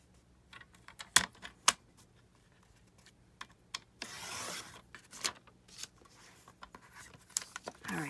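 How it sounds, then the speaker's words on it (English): Paper cut with scissors while making a junk journal from Reader's Digest pages: a few short, sharp snips and a longer rustling crunch of paper, close and fairly quiet, with no talk. "go ahead and cut it right at the same spot here"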